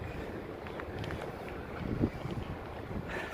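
Cool wind in Ajaccio, Corsica buffets steadily against the microphone with a low rumbling roar, a gust peaking midway, and no talking over it.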